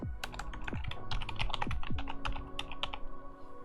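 Rapid typing on a computer keyboard, close and crisp, with quick irregular key clicks and a few heavier keystrokes in a steady flurry while an email and password are entered, no voices.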